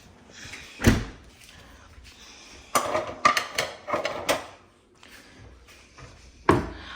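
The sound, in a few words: loading a dishwasher, door and rack sounds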